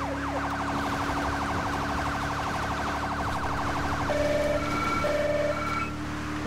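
Police car siren in Grand Theft Auto V with the LSPDFR mod, loud and close, a rapid warbling yelp that switches to a slower alternating two-tone wail over a steady engine hum.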